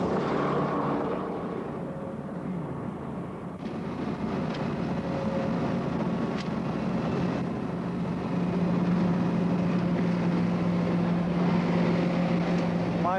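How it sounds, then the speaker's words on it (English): A disguised Triumph Stag prototype speeding around a test track, its engine a steady rumbling drone that swells slightly as it passes, with a faint voice underneath. "An assembled but as yet still disguised Stag speeds around the track"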